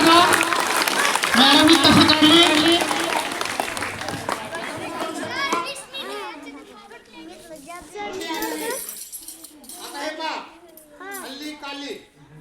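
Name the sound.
audience clapping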